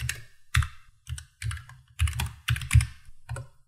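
Keys on a computer keyboard clack in a quick, uneven sequence of close, crisp taps as commands are typed into a terminal, with no voices.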